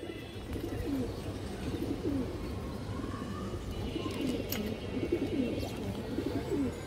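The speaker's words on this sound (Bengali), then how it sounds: "রিং চোখের কবুতর" A ring-eyed pigeon coos in soft, repeated low phrases at close range over a faint background hum, with no talking.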